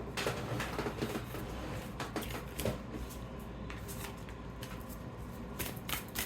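Cards are shuffled in a series of quick riffling bursts, close and fairly quiet, with no talking.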